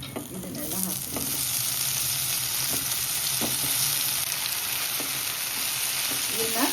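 Soya chunks fried in oil in a pan, a loud steady sizzle running throughout with occasional stirring scrapes and clinks, no talk.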